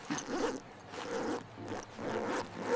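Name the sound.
clothing zipper being zipped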